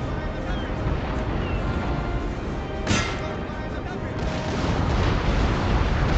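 Naval cannon fire from sailing warships in a Napoleonic-era naval battle off Genoa in the PC game Napoleon Total War, a dense continuous rumble of booming shots with one sharper blast standing out, voices talking over it.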